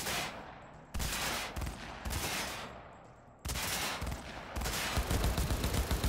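Bursts of automatic gunfire in the video game Cyberpunk 2077, loud and close, arrive in several sharp volleys with brief gaps, the last long stretch hammering on steadily.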